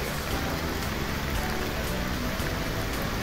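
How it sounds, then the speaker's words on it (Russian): Heavy rain shower pouring down in a park in Dresden, a dense, steady hiss of drops hitting surfaces all around, loud and continuous with no voices. "Сильный-сильный ливень."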